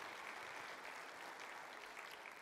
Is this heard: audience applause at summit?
yes